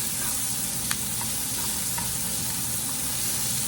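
Onions and mushrooms fry together in a pan for patty melts, a dense, steady sizzle filling the whole stretch with a couple of faint clinks of the utensil.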